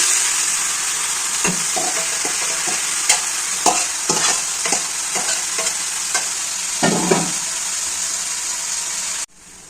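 Bottle gourd leaves hitting hot oil with already fried onion and garlic in a pan, a loud close sizzle with repeated scraping stirs and bursts of crackling, ending suddenly.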